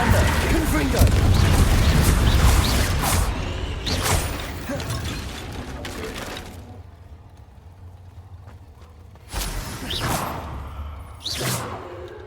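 Confringo fire-blast spells booming and whooshing in Hogwarts Legacy gameplay, a dense run of loud bursts and thuds for several seconds, then a quieter stretch broken by two more sharp blasts.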